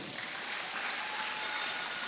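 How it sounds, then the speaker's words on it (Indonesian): An audience at a gathering at an Islamic boarding school applauds in a faint, steady wash of clapping that holds evenly for a couple of seconds. "Tepuk tangan untuk Mas Adam ini"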